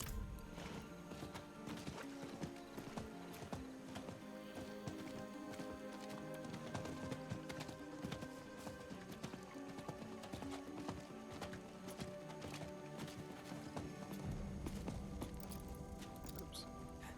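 Rapid rhythmic hoofbeats of a galloping horse in the Diablo IV video game, clip-clopping steadily under game music and ambience, faint and continuous throughout.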